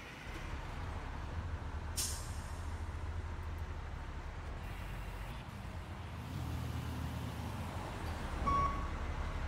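A fire engine in the EmergeNYC firefighting game starts up and settles into a steady low engine rumble, with a brief sharp hiss near the start and a short tonal beep close to the end, all without talk.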